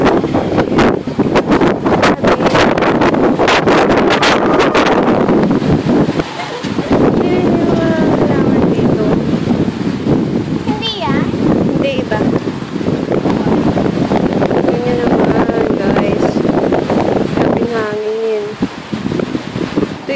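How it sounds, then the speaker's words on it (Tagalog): Strong wind buffets the microphone in heavy, rumbling gusts throughout, with brief lulls, while voices are faintly heard beneath it. "Grabing hangin."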